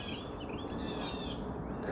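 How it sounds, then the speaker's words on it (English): Birds sing in the woods, their thin chirps and whistled calls rising faintly over a steady outdoor wash of background noise, distant and soft, with no voices. "I come out in nature and I'm listening to the birds."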